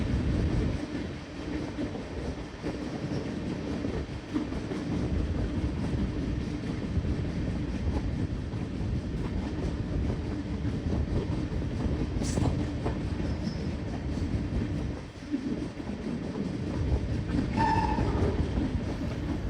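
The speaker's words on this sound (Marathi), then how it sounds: "आता तुम्ही ट्रेनच्या आवाजाचा फील घ्या" A crowded local train runs near Thane station with a loud, continuous rumble and rhythmic clatter of the wheels, heard from close by, with a brief whistle-like squeal near the end.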